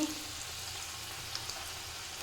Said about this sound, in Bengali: এখানে ভাজা হচ্ছে বেগুন এই যে বেগুন ভাজা করছি